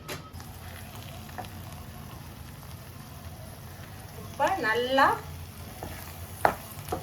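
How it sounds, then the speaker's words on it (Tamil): Puliccha keerai (gongura) pachadi frying and bubbling in oil, a steady soft sizzle with faint crackles throughout, a brief stir around the middle and a sharp tap near the end, with a few spoken words over it. "எண்ணெய் பிரிஞ்சு வர வரைக்கும் இதை கொதிக்க விடுங்க"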